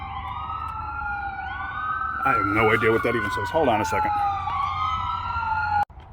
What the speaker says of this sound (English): I really don't understand the reason for having a siren on like that